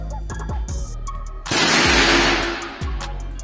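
Single loud report of a GK500 air rifle firing a slug pellet, a sudden broadband crack with a fading hiss, framed by faint clicks and thumps before and after.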